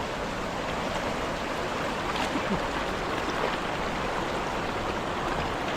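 Forceful floodwater of the Kaveri river near Mysore rushes in a steady, dense roar that never lets up, close by and loud throughout, with no voices.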